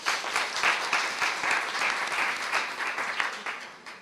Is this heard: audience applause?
yes